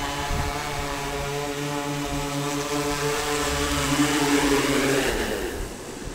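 A DJI Inspire 2 quadcopter comes down to land on a beach, its steady propeller whine and buzzing rotor harmonics loud and close throughout, shifting slightly in pitch as it descends, with no talking.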